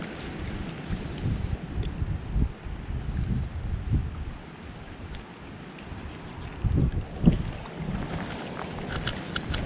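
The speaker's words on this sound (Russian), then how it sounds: "Ветер, конечно, бомбой" Strong wind buffets an outdoor fishing spot, a rough continuous low rumble of gusts against the microphone rising and falling throughout with faint higher rustling.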